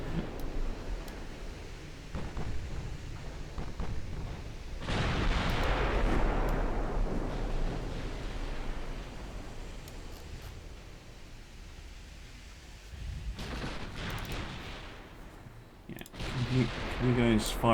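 Warship guns in the naval game Ultimate Admiral Dreadnoughts fire as deep booms and rumbling blasts, with a large swell midway and another near the end, while players talk over the noise.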